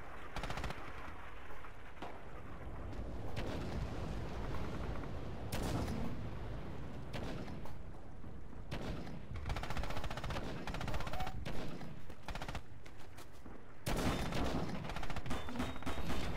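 Dense machine-gun and rifle fire with heavy artillery blasts in the Red Orchestra 2 battle at the Druzhina bridges, continuous loud bursts throughout with sharper impacts near the end, a voice briefly heard over the combat.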